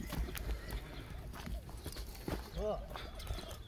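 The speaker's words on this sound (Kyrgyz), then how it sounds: "Бир ат жагын тартайын, оңго солго кайрып көрсөтчү." A horse being led and turned left and right outdoors clip-clops on the ground in a loose, uneven hoof rhythm, with a short harmonic call partway through and faint voices in the background.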